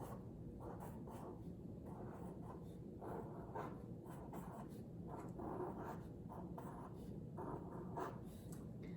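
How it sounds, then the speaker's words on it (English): Pen or pencil writing words on paper, soft close scratching strokes in short irregular bursts, quiet and steady. "we can just find it in our writing that we've done already, and we can write it again."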